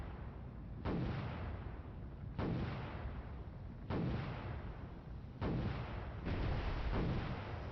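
Vertical-launch missiles fired from a ship in the naval game Cold Waters: four heavy launch roars in a row, each a sudden loud blast that lingers as a rumbling rush, evenly spaced about every one and a half seconds.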